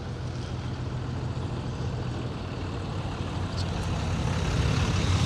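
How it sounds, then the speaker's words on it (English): A truck approaching along a road near a riverfront park in Van Buren, Missouri: a broad, low engine and tire rumble that grows slightly louder toward the end, with no talk. "Got a truck coming here."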